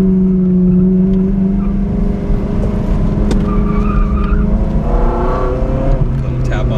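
A Ferrari 360 Modena on a racetrack holds a steady engine drone, then rises in pitch as it accelerates off the brakes. A voice talks over it, and a faint tire squeal is heard.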